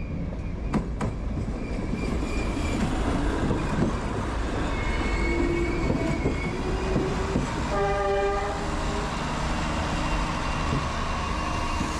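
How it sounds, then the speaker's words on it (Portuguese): A train pulls into a Portuguese station on arrival from Porto. Wheels clatter and rumble steadily and close by, a horn-like tonal blast sounds partway through, and brief squeals rise over the continuous rolling noise. "Esta é a chegada do comboio, vindo diretamente do Porto."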